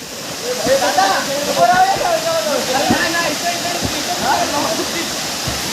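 A waterfall at Gavkhadi roars in a constant, heavy hiss throughout, with voices calling out over the rushing water.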